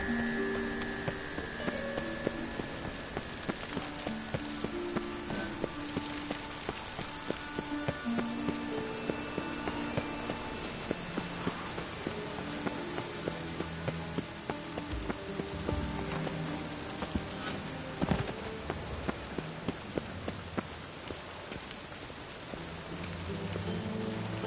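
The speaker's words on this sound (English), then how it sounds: "It just rains and rains." Steady rain falls in the video game The Witcher 3: Wild Hunt, a constant patter of drops that continues evenly for the whole stretch under a soft bed of music.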